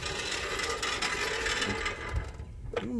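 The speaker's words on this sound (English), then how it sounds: "Y'all hear that rattle noise?" Brakes on a Craftsman riding lawnmower produce a dense, continuous mechanical rattle that stays steady and fairly close throughout, with no voices over it.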